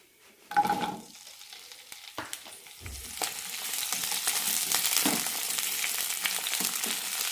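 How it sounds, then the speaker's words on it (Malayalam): Okra (lady's finger) frying in a tablespoon of oil in a pan: a steady broadband sizzle rises after a sharp start at under a second and holds to the end, broken by a few clattering stirs, with no talk. "വെണ്ടയ്ക്ക് നന്നായി ഒന്ന് വറുത്തെടുക്കാം"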